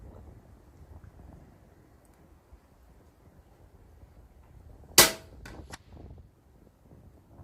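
Sharp single crack of an air rifle firing a pellet outdoors in gusty wind, a loud close shot followed by a couple of quick fainter echoes, set against soft low wind rumble.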